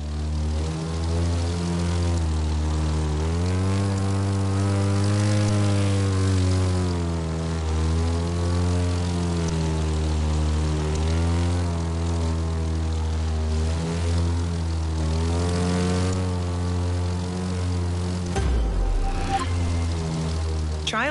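Propeller airplane droning steadily in the driving game The Crew, a loud sustained engine hum with gentle pitch swells as it maneuvers, ending with a brief disturbance near the end.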